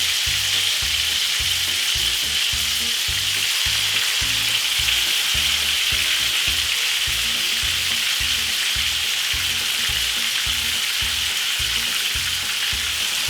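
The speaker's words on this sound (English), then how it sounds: "So we're going to pan fry for roughly about 10 minutes" Chicken pan-frying gives a loud, dense sizzle that holds steady from start to finish with no talk, only faint low thumps beneath the hiss.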